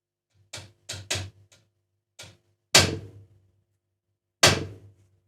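Metal guitar fret being tapped into a wooden fretboard by hand: a quick run of three light taps, a pause, two more soft taps, then two louder, sharper knocks spaced apart, close and alone.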